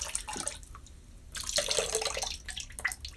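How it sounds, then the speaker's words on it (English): Water from a shaving mug splashes and trickles into a sink in uneven gushes and drips, close and fairly quiet, with a louder pour in the middle. "I dump all the water out into the sink."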